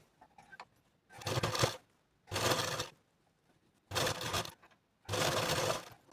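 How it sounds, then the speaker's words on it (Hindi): A sewing machine runs stitches along a blouse sleeve seam in four separate bursts, each about a second long and close and clear, with short quiet pauses between them. "इसको हम सीधे पे सिलाई लगा करके जोड़ लेंगे दोनों साइड का।"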